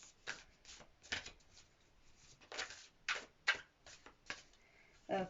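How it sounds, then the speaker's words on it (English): Oracle cards being shuffled by hand make a quiet run of soft riffling and flicking bursts, irregular and close, with no talking over them. "I'm going to pull you a quick Universe Has Your Back Oracle card"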